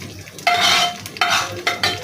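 A spatula scrapes and stirs onions in a sizzling pan in three quick strokes, close and clear, with frying hiss underneath.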